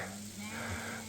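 Sheep and goats herded by nomadic shepherds on a mountain crossing bleat in a brief, faint burst against outdoor background noise.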